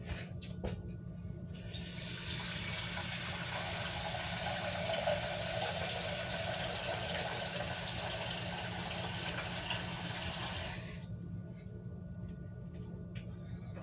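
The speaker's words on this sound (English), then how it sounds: "we're going to fill our pot with some water" Tap water runs steadily into a cooking pot for ramen in a home kitchen, a continuous rushing stream that starts and stops cleanly, heard alone.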